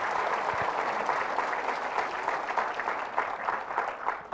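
A church congregation applauds during Mass after a Gospel reading, a steady, dense wash of clapping holding at an even level throughout without any talk.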